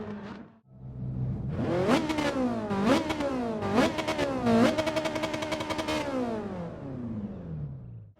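A Ferrari 458 Italia GT3 race car revs hard in Gran Turismo 7, with rising engine pitch through several quick upshifts, then a long pull that slowly winds down, loud and close with no talk.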